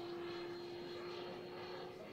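An AeroFoam MB-339 RC jet with a 105mm electric ducted fan flies overhead, giving a steady, high whining hum with a strong sustained tone throughout, moderately distant.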